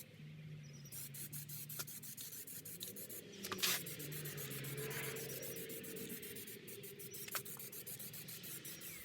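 A spray can applies matte black Plasti Dip to car tail lights in a soft, hissing burst of spray, near and fairly quiet, with faint rubbing and handling noises around it.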